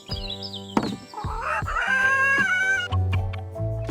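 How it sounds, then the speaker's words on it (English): Chickens cluck and a rooster crows in a busy farmyard. Several short clucks are followed by a long, wavering crow and more clucking close by. "Time to raise some chickens."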